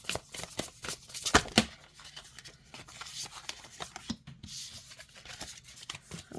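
A deck of oracle cards is shuffled overhand up close, making soft irregular flicks and rustles with a few sharper slaps as the cards fall.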